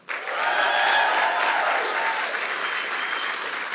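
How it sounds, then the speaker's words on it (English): An audience at a national grand final cheers and claps for the finalists, a sustained wash of applause with some whoops that swells quickly and holds for several seconds. "let's get a cheer for them, their families and their teachers that helped them along the way"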